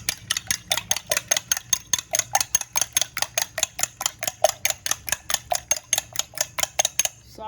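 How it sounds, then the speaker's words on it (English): Eggs beaten in a bowl for bacon, spinach and cheese mini quiches, a fork or whisk clicking against the bowl in a fast, even rhythm of sharp taps, close and clear with no talking. "let's just go ahead and beat these"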